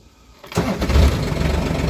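A Kawasaki Mule Pro DXT LE EPS utility vehicle engine cranks and fires up after a short quiet moment, then settles into a loud, steady idle close by.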